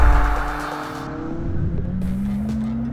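A McLaren 620R pulls away on an Omani road, engine note rising and falling with a brief dip then a climbing rev as it accelerates, loud and close with road and tire roar underneath.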